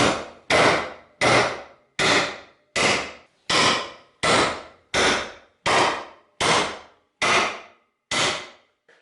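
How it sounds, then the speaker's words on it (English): A heavy, expensive hammer drives nails in about a dozen sharp, evenly spaced blows, each strike loud and close with a short ringing decay and no talking between hits. "we'll see how many hits it takes for them to sink the nails."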